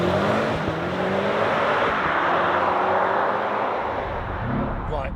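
A BMW M5 Touring carrying two people accelerates hard, its engine roaring loudly and climbing steadily in pitch from inside the cabin, with a brief voice near the end.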